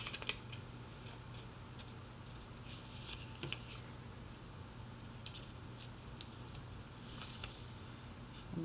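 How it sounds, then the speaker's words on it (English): Paper corners are folded and creased to make a classroom math foldable, giving faint scattered crinkles and soft ticking presses against a quiet background. "Fold in the corners."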